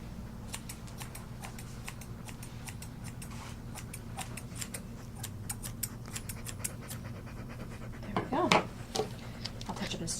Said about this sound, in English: I'll go between his toes now with my brush and my thin shears.